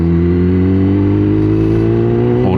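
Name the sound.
motorcycle engine while riding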